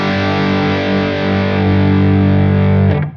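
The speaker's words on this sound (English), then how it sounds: "engage the deep switch." An electric guitar runs through a Soldano SLO Plus overdrive pedal with its deep switch engaged, giving a loud, heavily saturated sustained chord with thick low end, ringing alone before cutting off.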